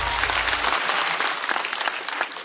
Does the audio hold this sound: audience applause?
yes